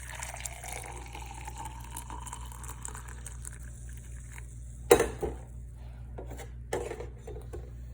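A freshly descaled coffee machine pours coffee into a clear cup: a faint, steady trickle over a low mechanical hum, broken by a couple of sharp clicks or clunks near the end.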